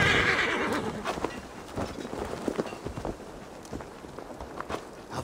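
Horses whinny and their hooves clop in Assassin's Creed Valhalla, a shrill neigh opening followed by scattered hoofbeats and shuffling steps over a dull outdoor ambience, moderately close.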